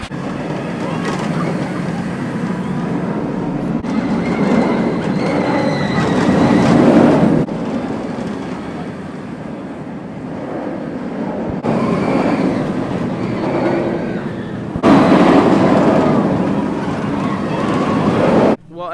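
Nemesis, an inverted roller coaster at Alton Towers, roars steadily and loudly for the whole ride, with rushing wind and rumbling track noise surging in waves and riders' voices and screams mixed in.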